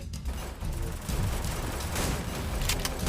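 Rapid gunfire from the battle-royale video game Free Fire, a dense, continuous clatter of shots with a few sharper bursts near the end, steady and moderately loud throughout.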